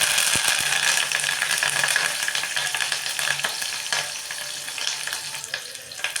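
Green chillies, crushed garlic and fresh curry leaves fry in hot oil for rasam, a steady close sizzle with occasional clinks and scrapes of stirring, continuing without talk.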